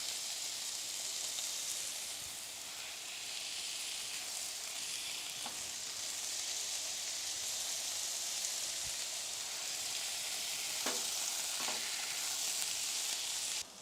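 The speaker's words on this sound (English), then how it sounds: "Smash that down and let those cook. There we go. Listen to that sizzle." Smash burgers sizzle on a hot Blackstone griddle outdoors, a dense, continuous frying hiss with a few faint scrapes and taps, steady and close with no talking.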